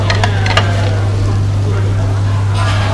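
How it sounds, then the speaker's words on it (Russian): Lamb meat fries in a pan with a steady loud sizzle under a constant electrical hum, with occasional scraping stirs and people talking nearby. "Мясо, жарим мясо."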